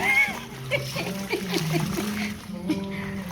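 Water splashes and sloshes as laundry is rinsed in water drawn from a swimming pool, a steady wet splattering under a person's voice talking throughout.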